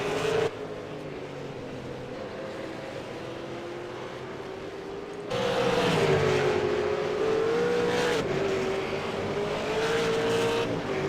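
A V8 Supercar engine drones steadily in the iRacing sim racing game at Zandvoort, its pitch rising and falling through shifts, then louder and more insistent midway as the car accelerates hard, with no talking.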